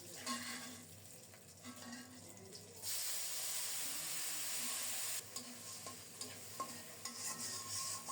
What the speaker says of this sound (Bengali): এভাবে করে মশলাটাকে কিছুক্ষণ ভেজে নেব